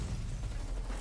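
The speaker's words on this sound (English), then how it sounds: "Explosions shake dust loose from the ceiling, and a shrill alarm suddenly blares" Explosions in the Girls Frontline 2 video game form a dense, continuous low rumble of booms and bursts, loud and steady throughout with no pause.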